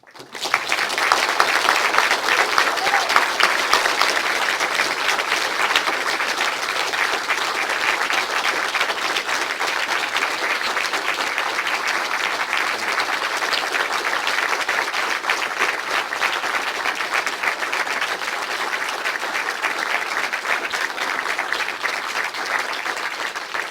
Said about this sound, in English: That's the longest round of applause I've ever heard at an inaugural lecture.